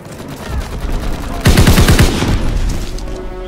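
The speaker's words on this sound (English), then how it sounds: "Fighter aircraft ready. On for a strafing run." Fighter aircraft machine guns rake the ground during a strafing run in Call of Duty WWII: a sudden loud burst of rapid rattling gunfire cuts in midway over a busy battle background, then trails off into lingering noise.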